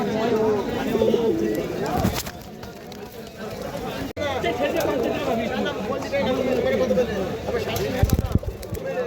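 Pigeons coo repeatedly at a busy pigeon market on Galiff Street, Kolkata, their soft rolling calls layered with nearby chatter and occasional wing flutters and thumps.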